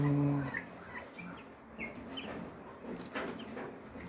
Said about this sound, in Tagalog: yan sila, bali 5 ducklings saka 11 chicks, Rhode Island chicks